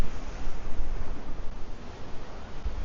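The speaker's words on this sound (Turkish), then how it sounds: "Biraz dalgalı bugün." Rough surf rolls onto a beach on La Digue in the Seychelles: a continuous, loud wash of breaking ocean waves, surging and easing in uneven swells and heard alone without voices.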